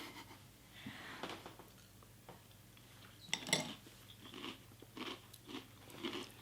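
Crunchy chewing of Chocapic chocolate cereal, faint and close, with a few louder crisp bites and soft clinks of a spoon against a bowl amid low background hum.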